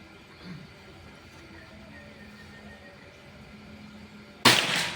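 A single sharp crack from a Predator Pajero Gen 6 air rifle firing a Hercules pellet near the end, loud and close, after a quiet stretch of low outdoor background.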